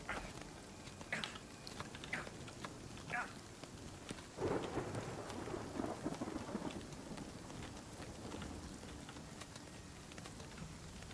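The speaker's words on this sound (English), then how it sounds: "Oh, God, hail, right." Hail and rain pelt the ground in the survival game Nightingale, a steady dense patter with rolls of thunder rumbling through, loud and close, no talk over it.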